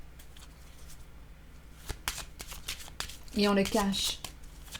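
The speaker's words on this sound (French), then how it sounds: "je vais piger une autre carte" A playing card drawn from a deck and handled, with brief crisp rustling and flicking near the end, heard close under French speech.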